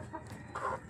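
Native chickens in a backyard flock give a couple of short, soft clucks close by, with no talk over them.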